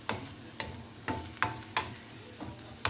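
Okra and onions stir-fried in a pan, with a spoon scraping and stirring in a rhythmic series of about eight sharp strokes over a low, steady sizzle, close and alone with no talking.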